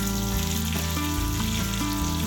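Surmai (kingfish) pieces fry in a pan in Agri-Koli style, giving a loud, continuous, close sizzle that runs throughout with a steady tonal background melody.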